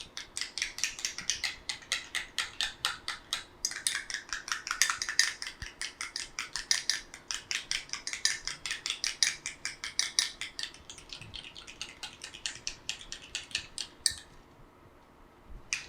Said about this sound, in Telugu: ఈ 4 ఇంగ్రీడియంట్స్ మనం మిక్స్ చేసుకున్న తర్వాత చక్కగా ఈ స్టిక్కీనెస్ లేకుండా మిక్స్ చేసుకుందాం ఇలా